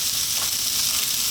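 Chicken spring roll filling sizzles steadily in a hot pan as it is stirred, a close, even hiss that carries on without a break.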